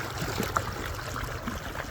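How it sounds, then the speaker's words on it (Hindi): Tubewell water pours into a sorghum field in a steady, close rush of trickling and gurgling, with no voices over it. "ज्वार के इस खेत में पानी को लगाए हुए हमें तकरीबन आधा घंटा हो गया है"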